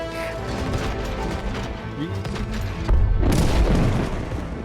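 A bomb is shot and explodes in the co-op game It Takes Two: rumbling, clattering game sounds build before a loud, sudden boom bursts out near the end and lingers.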